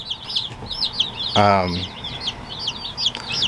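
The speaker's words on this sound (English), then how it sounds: "So first we'll start with the black copper Moran chicks." Black copper Marans baby chicks peep in a steady busy chorus of high, thin chirps close by, with a brief lower fowl-like call rising in the middle.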